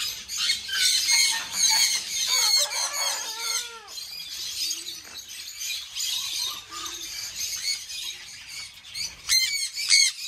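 Many birds squawking and calling at once in a pet sanctuary aviary, a busy overlapping chorus of harsh cries and chirps, fairly close, with no talking.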